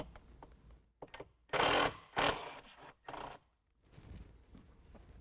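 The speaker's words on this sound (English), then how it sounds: "let's go ahead and take out these two bolts." Ratchet with a T40 bit backing out bolts on a 2020 Jeep Gladiator soft-top bracket, three loud close bursts of rapid clicking separated by short pauses, softer handling noise around them.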